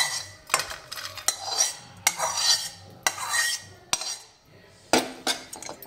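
A metal spoon stirs and scrapes roasted coconut in a kadhai. The clinks and scrapes come close and fairly loud, in a steady rhythm of repeated strokes with short pauses between them, and no one talks.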